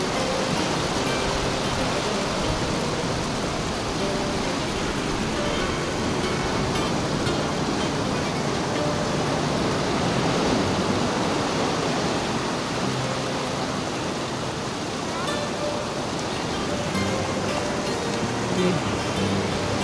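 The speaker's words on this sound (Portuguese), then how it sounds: "a cascata das cobras ou da Praia da Amália" The waterfall at Praia da Amália in Portugal pours with a constant, dense broadband rush of falling water, steady and close for the whole stretch, with no pauses.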